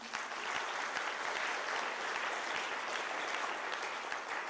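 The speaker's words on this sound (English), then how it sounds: "Applause, ladies and gentlemen." Steady audience applause fills an awards evening hall, dense and sustained throughout with no talking over it.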